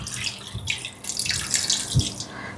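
Water pours into a pot holding sardines, salt and kudampuli, a close continuous splashing flow with a few louder gushes and no talking.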